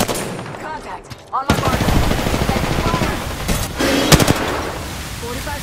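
Rapid automatic gunfire in an Apex Legends match rattles close and loud almost without pause, with a louder crack near the end and a voice speaking briefly over the start.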